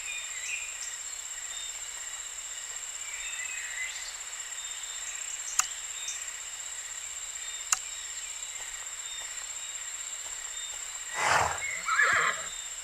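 A horse whinnies in the video game My Little Riding Champion, a single clear neigh near the end over a quiet hum of crickets, with two faint clicks earlier.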